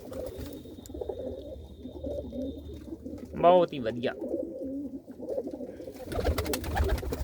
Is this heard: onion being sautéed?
no